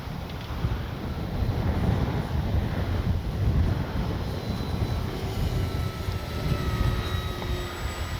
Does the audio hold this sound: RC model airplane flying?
yes